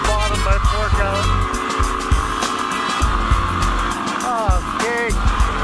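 Yamaha WR250R dirt bike engine pulling hard on dry, loose dirt, a loud continuous throbbing roar close by, with a person's voice talking and calling out over it.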